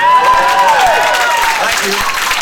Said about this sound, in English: I do expect a round of applause when I finish the title.